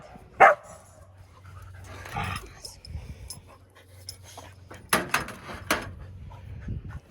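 A single sharp dog bark rings out near the start, followed by panting, shuffling and a few faint yips; someone speaks briefly.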